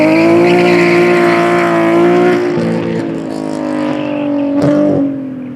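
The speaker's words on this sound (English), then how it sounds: "You just gotta love the sound of a healthy 4-cylinder on ITBs" A healthy four-cylinder race car engine fitted with individual throttle bodies runs at full throttle during a time attack championship final, roaring loud and close with a steady high-revving tone that dips slightly and wavers toward the end.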